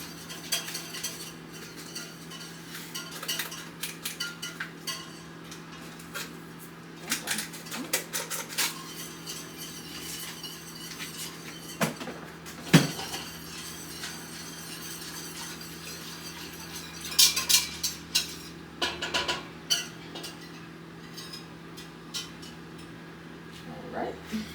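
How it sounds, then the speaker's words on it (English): A whisk scrapes and clinks against a pot as grape jelly mixture is stirred, a steady metallic rattle with scattered sharper knocks and a low hum underneath; no talking. "I'm just gonna whisk this in"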